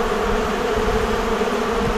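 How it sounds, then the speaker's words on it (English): Honeybees buzzing their wings at a hive kept on a balcony, heard close up as a dense, continuous drone, loud and unbroken, with no voices. "of all the bees buzzing their wings"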